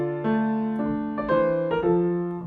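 Keyboard, likely harpsichord, playing a short phrase of notes inégales in French style, the notes unevenly long-short, close and clear with no talking.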